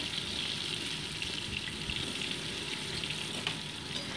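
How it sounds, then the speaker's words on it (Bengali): Potato pieces fry in oil for a fish curry, making a thick, steady, bubbling sizzle that stays even throughout with only slight crackles on top. "এইবার ওই তেলের উপরেই দিয়ে দিচ্ছি আলুর টুকরোগুলো।"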